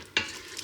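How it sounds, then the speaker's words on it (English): Frozen prawns sizzling in a Ninja Foodi on the sauté setting, with a short scrape of stirring near the start and another near the end, and a steady low hiss of frying in between. "So it's starting to sizzle, so let's give it another stir."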